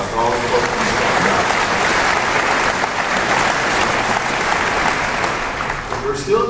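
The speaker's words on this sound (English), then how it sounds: "a round of applause for all the folks" An audience at a safety conference claps in a sustained, dense round of applause that stays loud and even for several seconds before tapering slightly.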